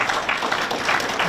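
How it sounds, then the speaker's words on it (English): A convention panel audience applauds at a horror creature convention, a loud, dense burst of many hands clapping close by, steady with slight surges across the short stretch and no speech over it. "a round of applause for all these amazing"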